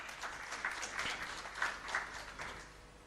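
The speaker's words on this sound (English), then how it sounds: "Let's give him a big round of applause." Audience applause for a panelist at an investment forum, soft and fairly distant, with scattered claps rising and falling over a few seconds and no voices.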